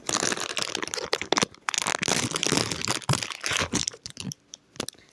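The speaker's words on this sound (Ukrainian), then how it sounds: "Зараз я відкрию пакетик, ножичі нам не треба." A plastic packet holding a Labubu toy crinkles, crackles and tears in bursts as hands pull it open by hand, loud and close with brief pauses between.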